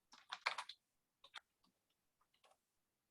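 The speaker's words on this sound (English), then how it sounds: "When you're typing off screen, you have no idea whether you're typing it right or not." Typing on a computer keyboard just off camera: a quick burst of clustered key clicks, then scattered lighter taps and pauses, fairly close and quiet with no talking.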